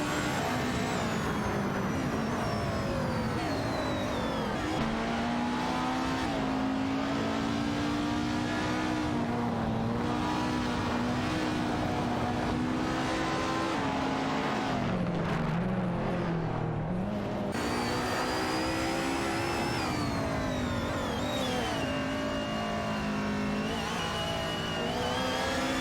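Race cars in a racing video game, including an Aston Martin Vantage and a Lamborghini Huracan, with a loud sustained engine drone rising and falling through gear shifts and revs, continuous throughout.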